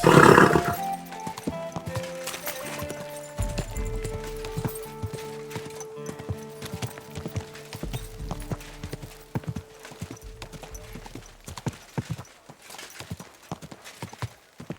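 Horse hooves clip-clopping in Kingdom Come: Deliverance II, a steady trotting rhythm close by with a brief whinny-like burst at the start and game music tones underneath.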